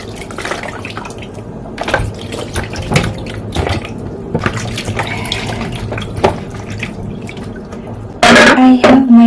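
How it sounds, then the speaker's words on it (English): Water sloshes and splashes as freshly chopped vegetables are rinsed in a bowl of reused washing water in a home kitchen, with irregular drips and swishes close by and a sudden louder gush near the end. "I'm going to use the same water to just quickly wash my vegetables"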